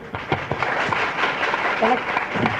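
Audience applause and clapping welcoming a guest to the stage at a 2002 Mahabaleshwar camp gathering, scattered claps mixed with murmuring voices and speech.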